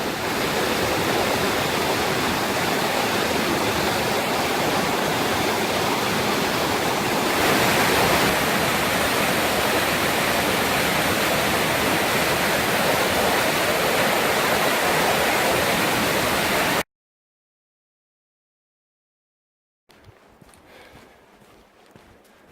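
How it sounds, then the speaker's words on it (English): Cedar Rock Falls, a powerful 16-foot waterfall in Pisgah National Forest, North Carolina, roars as a loud, steady rush of falling water heard from its base, then cuts off abruptly and returns much fainter. "nice powerful little waterfall here."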